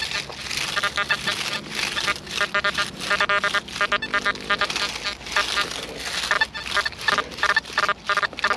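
An XP Deus metal detector with reactivity set to 4 gives rapid, warbling signal tones that jump quickly between targets in a dense, choppy stream of pulses.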